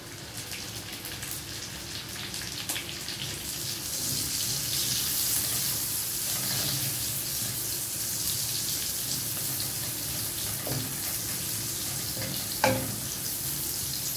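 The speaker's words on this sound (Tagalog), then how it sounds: "kapag medyo brown na guys yung bawang, ilagay na natin yung sibuyas" Garlic and onion sizzle steadily in a hot pan, a continuous close frying hiss with a few faint clinks of a utensil, no voices.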